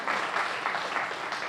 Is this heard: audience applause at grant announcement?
yes